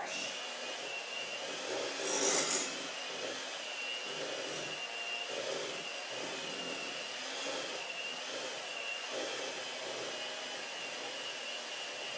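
Electric hand mixer running steadily on high while mashing bananas, a constant whirring motor drone throughout, with a brief louder surge near the start.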